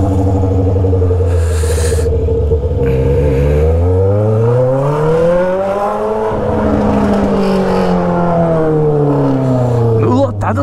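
A car engine roars and revs through rising and falling gear pitches on a crowded favela street, loud and continuous, with other traffic noise around it and people talking.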